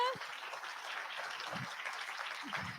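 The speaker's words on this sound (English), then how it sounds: "So clap for Olivia." Audience applause for a third-place winner at a school awards event, a steady, moderately faint patter of clapping with a few low thumps and brief voices mixed in.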